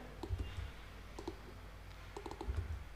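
Short bursts of clicky keystrokes on a keyboard, a quick flurry at the start and another near the end, with quiet pauses between.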